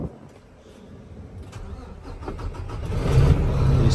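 The engine of a 2007 Mack CTP713B dump truck cranks and catches, then builds into a deep, rising rumble that grows louder and steadier toward a heavy idle, close by with no talking.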